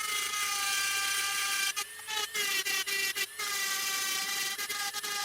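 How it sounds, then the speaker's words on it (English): Sintered diamond burr grinding a black opal from Lambina, South Australia, a steady high-pitched whine with rough abrasive hiss, briefly interrupted several times as the burr lifts off the stone. "I've finished with our coarse grade of sintered diamond burr"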